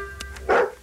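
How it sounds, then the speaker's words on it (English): A single short dog bark in a cereal TV commercial, one quick sharp yap at moderate loudness after brief faint sounds. "Stop the barking."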